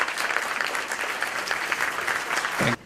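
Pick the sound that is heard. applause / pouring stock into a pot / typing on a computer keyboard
applause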